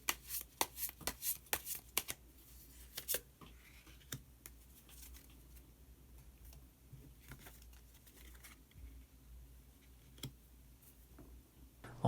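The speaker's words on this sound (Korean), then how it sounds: "마지막으로 히든 카드 한 장 더 모아보도록 하겠습니다" Tarot cards being shuffled and gathered by hand to draw a hidden card, a burst of quick crisp riffling flicks at first, then quieter intermittent card taps and slides close by.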